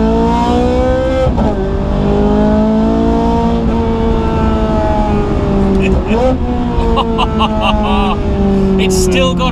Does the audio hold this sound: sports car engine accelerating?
yes